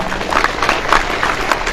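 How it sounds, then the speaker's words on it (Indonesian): An audience at a large religious gathering applauds the santri, a steady wash of clapping at moderate loudness lasting under two seconds, with no clear talk over it. "Sekali lagi tepuk tangan untuk para santri."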